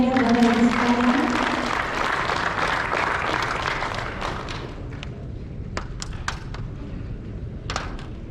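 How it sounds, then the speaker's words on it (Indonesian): An audience at an indoor community gathering of a regional association applauds. The clapping starts dense and loud and thins out into scattered claps, with talk underneath at the start. "boleh berikan tepuk tangan yang meriah Bapak Ibu sekalian"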